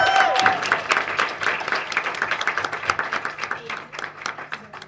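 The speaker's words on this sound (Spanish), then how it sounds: "Un aplauso, por favor." Audience applause at an undergraduate literature colloquium, brisk clapping that starts full after a voice and gradually thins into sparser, distinct individual claps toward the end.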